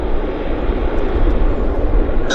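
An Airbus A350 jet at Vancouver airport, its engines producing a loud, close, steady roar that holds evenly throughout, with no voices over it.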